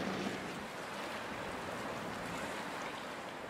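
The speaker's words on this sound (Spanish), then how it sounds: "Hay una mar de fondo. El tiempo se ha puesto malo." Rough ocean swell and rising wind off Cape Horn, a steady broadband wash of surf and blowing air that holds at a constant moderate level throughout, with no voices.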